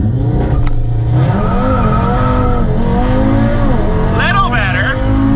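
Stock-turbo Audi RS3 with a Unitronic tune launching hard from a standstill on the street, engine revving with rising and falling tones, tire squeal, and a voice talking over the loud run.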